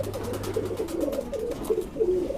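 Several kaath wale kalpare pigeons of the Madrasi type coo in a run of soft, repeated, rolling calls, close by and fairly steady, with no voices over them.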